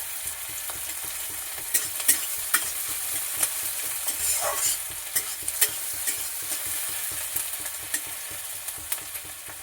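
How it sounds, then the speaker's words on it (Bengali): Onion frying in oil in a pan makes a continuous close sizzle, broken by repeated sharp clicks and scrapes as it is stirred. "পেঁয়াজটা লাল করে ভেজে নেব।"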